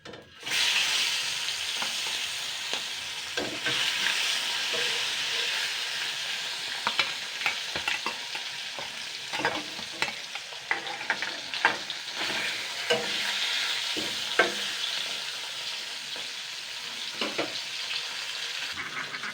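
Washed fish pieces sizzle steadily in hot oil, a continuous crackling fry with scattered sharper spits and pops throughout, close and fairly loud.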